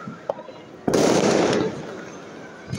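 Fireworks burst in a single loud, broad blast lasting about a second and trailing off, with a few smaller pops before and after amid people talking nearby during New Year celebrations.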